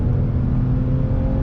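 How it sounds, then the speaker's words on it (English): A 2020 Toyota Avalon TRD sedan's engine pulls hard under acceleration in third gear on a twisty road, a steady, loud, close low-frequency drone with a continuous whirring hum and no talking. "Back on throttle, I'm in third gear."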